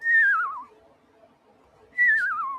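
A voice whistles an imitation of a fake bird sound from a film song. Two warbling, downward-sliding whistles come close and clear, separated by a second of near silence.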